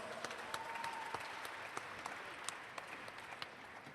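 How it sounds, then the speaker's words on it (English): Audience at the closing ceremony of the 47th International Film Festival of India in 2016 applauds in a steady wash of clapping, fairly distant and even, with scattered louder claps. "Ladies and gentlemen, big round of applause."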